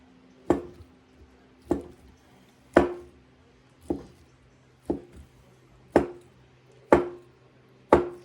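A knife rough-chops crab meat into big chunks on a cutting board, eight sharp thuds spaced about a second apart, close and distinct with no talking.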